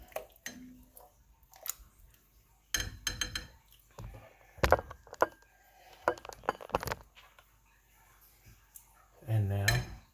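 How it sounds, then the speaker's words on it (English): A spoon scrapes and clinks against a pot while stirring Texas chili, irregular metallic knocks and scrapes in bursts with quiet gaps, close and moderately soft. "Get it stirred in good."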